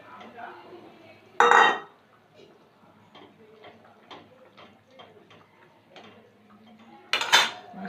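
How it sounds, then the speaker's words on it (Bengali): Pieces of katla fish dropped into a pan, two loud clattering thuds several seconds apart with soft clinks and light ticking between, close by. "খুব বেশি জল দেব না, এবার মাছটা দিয়ে দেবো।"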